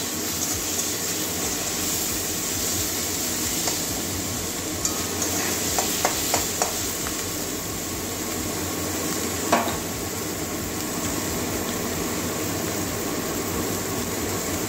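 Tomato masala with ginger and garlic sizzles steadily in a pan under a constant frying hiss, with a few brief scrapes and clinks of stirring near the middle.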